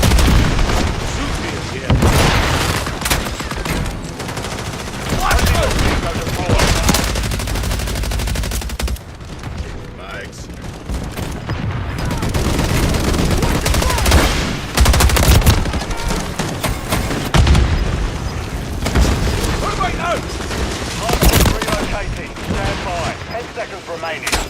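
Semtex grenade blasts and sustained automatic gunfire in a shooter video game, loud and continuous, with booming hits and battle chatter and shouted voices throughout.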